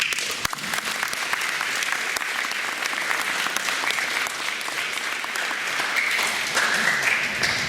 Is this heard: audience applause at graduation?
yes